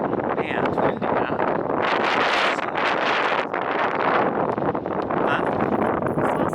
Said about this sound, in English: Man, it's windy, huh?